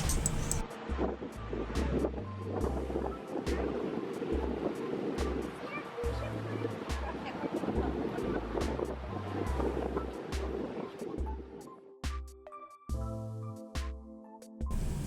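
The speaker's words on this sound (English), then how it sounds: "So we're back on the tender heading back to our ship." A cruise ship tender boat motors across the open ocean, its steady engine hum and rushing water and wind filling the scene continuously, with some rhythmic thumping from the hull.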